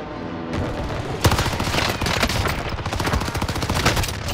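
Rapid bursts of video game gunfire crackle in a dense, continuous volley, loud and close, starting after a quiet half-second and running without a break.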